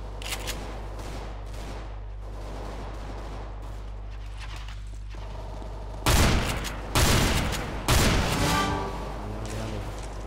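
Gunfire in the video game CS:GO, with a revolver in use: three loud, sharp shots close together, each with a short tail, over a quiet steady game background.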